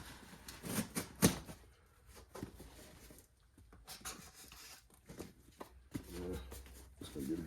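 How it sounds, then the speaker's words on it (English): Packaging for a Taylor 35 reed case kit is pulled open on a workbench, giving quiet, irregular crinkles, rustles and sharp tearing snaps up close. "we'll go ahead and rip it open"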